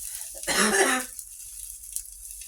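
A single harsh cough bursts out close by, lasting about half a second, then quiet follows.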